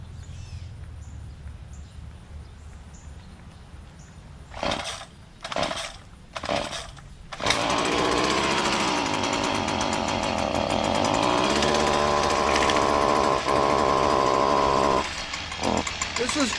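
Small gasoline engine on commercial equipment, suspected of a carburetor problem, gives several short pull-start bursts, then catches and roars steadily at full throttle for several seconds before easing off, with someone talking over it.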